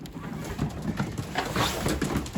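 Racing pigeons coo inside their loft during the breeding season, soft low throaty coos overlapping close by with light rustling.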